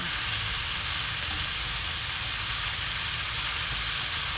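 Pork adobo sizzling in a pan: a constant, close, bright hiss of frying that stays even for the whole stretch, with no voices.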